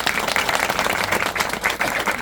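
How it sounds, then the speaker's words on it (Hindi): Audience applause at a Hindi spiritual satsang gathering, a dense, steady patter of many hands clapping throughout, loud and close with no pauses. "एक बार ताली हो जाए।"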